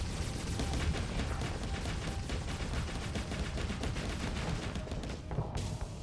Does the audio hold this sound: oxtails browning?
no